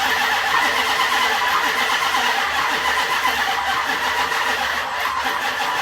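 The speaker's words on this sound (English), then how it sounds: "turn it over and see what it sounds, see how it sounds" A Dodge Charger engine, freshly installed and failing to start, cranks continuously under a loud, rough mechanical grind on a weakening battery, turning over steadily for several seconds without catching.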